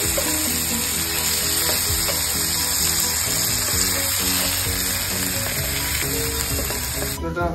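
Ginger paste and green chili paste fry loudly in hot oil in a pan for a Thai pad krapow dish, a dense steady sizzle with faint stirring scrapes, close and continuous throughout.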